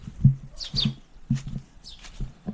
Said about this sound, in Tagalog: Dinig nyo yung mga huni na yun? Kakaiba, di ba?